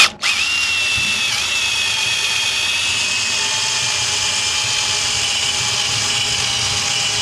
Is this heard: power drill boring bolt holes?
yes